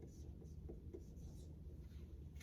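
Marker or chalk writing on a classroom board, soft scratchy strokes in short bursts over a low room hum, fairly quiet.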